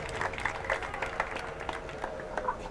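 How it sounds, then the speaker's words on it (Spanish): An audience at a school performance of Aladdin claps in a brief, scattered round of applause, fairly faint and uneven, with no voices standing out. "Damos un aplauso a Lidia"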